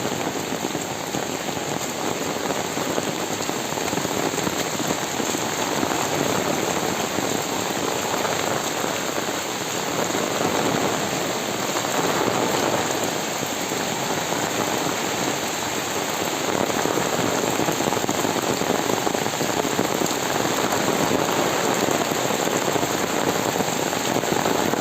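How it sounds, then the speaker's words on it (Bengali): Steady rain falls on a village road, heard from under an umbrella as a dense, constant hiss and patter that continues throughout. "বৃষ্টির ভিতরে ছাতা করে বোনের বাড়ি যাচ্ছি একদিকে বৃষ্টি হচ্ছে"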